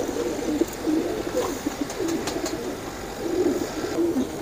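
Pigeons cooing in low, repeated throaty phrases over a steady background hiss, fairly close; Royal Teddy pigeons, including a female.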